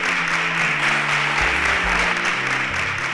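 Applause breaks out for contestants leaving the stage at a Nigerian television show, a continuous wash of clapping heard under music throughout.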